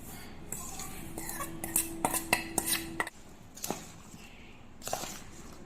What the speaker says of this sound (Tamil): சேர்த்து விட்டு நல்லா கிளறி விட்டு வச்சுக்கலாம்